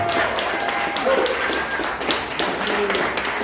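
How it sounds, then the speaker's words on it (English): A crowd claps and applauds steadily, a dense wash of hand claps sustained throughout at moderate volume. "let's give them a big round of applause"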